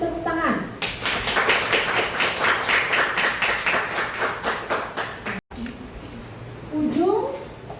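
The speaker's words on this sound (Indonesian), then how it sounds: "kita beri tepuk tangan" A university classroom gives a round of rhythmic group clapping for about four seconds, close and lively, followed by quieter talk from a teacher.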